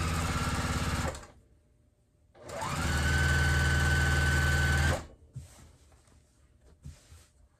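Sewing machine stitching a quarter-inch seam on a baby quilt with batting, a close, steady motor whir with rapid needle rhythm in two long runs separated by a pause, then quiet handling noises.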